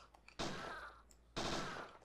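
Gunfire in Parasite Eve 2: two separate bursts, each a sharp loud blast with a ringing tail, about a second apart, standing out against a quiet background.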